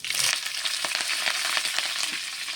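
Mustard seeds spluttering in hot oil while tempering for a papaya theeyal make a close, busy sizzle full of quick crackling pops, with a loud burst at the start and a steady hiss throughout.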